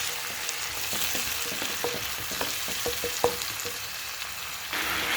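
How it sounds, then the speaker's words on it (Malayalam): Soaked, squeezed tamarind water goes into a pan of frying masala for rasam. It crackles and sizzles up close, with light stirring clicks throughout and the hiss swelling slightly toward the end. "ഇനി ഇതിലേക്ക് നമുക്ക് കുതിർത്തി വെച്ച പുളി പിഴിഞ്ഞിട്ട് ഒഴിക്കാം"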